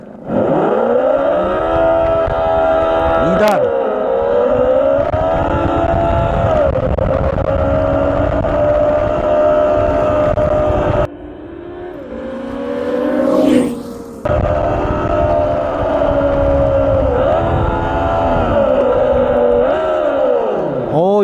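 Synthetic engine sound from a Segway Ninebot Gokart Pro second-generation electric go-kart in manual mode, a loud sustained droning whine that climbs and dips with simulated revs and downshifts, briefly dropping out partway before resuming.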